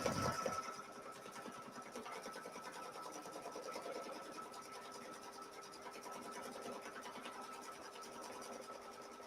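A computerized embroidery sewing machine stitches an outline cut line, giving a faint, steady rapid needle chatter with a constant mechanical hum, after a brief louder knock at the start.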